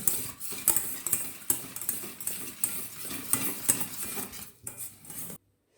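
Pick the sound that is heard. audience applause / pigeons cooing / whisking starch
whisking starch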